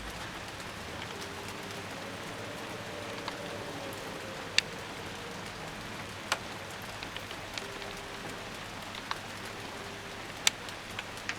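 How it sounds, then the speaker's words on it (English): Heavy rain pouring down outdoors where fantail doves shelter, a steady soft hiss with scattered sharp drip ticks, faint and even throughout with no talking. "I'm not sure if you can hear the rain, but it's really like pissing down out here."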